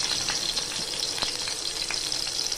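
Coarsely crushed garlic sizzling in hot oil as the tempering for carrot rasam is started, a close, steady, loud frying hiss with faint crackles throughout and no talking.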